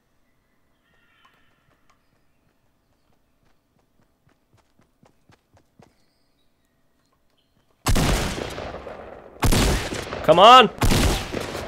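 Fortnite Battle Royale gunfire in a solo-versus-squad match: after nearly eight seconds of near silence, loud, dense bursts of shots break out in two clusters, with a short spoken remark among them.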